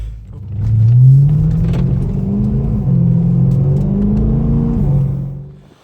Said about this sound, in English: I don't have to tell a guy to start up the car, to rev it and so on.